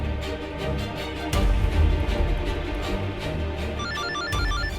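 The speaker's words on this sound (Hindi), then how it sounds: "फोन कर रहे हैं पापा बार बार यार।" A phone ringtone repeats insistently over a steady musical background in a Hindi TV drama scene, the ringing pulses continuing loudly throughout without speech.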